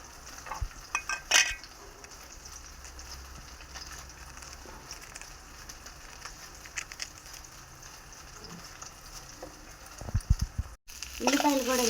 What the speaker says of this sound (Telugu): ఉల్లిపాయలు కూడా ఇలా వేగినాయి కదండి.